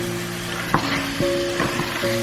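Beef frying in a hot pan with a soft, low sizzle, a few brief scrapes over a steady hum, and no talking.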